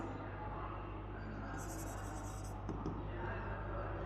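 Chalk or marker scratches across a classroom board during a math lesson, quiet strokes over a low steady hum, with a burst of brighter scraping midway and no clear talk.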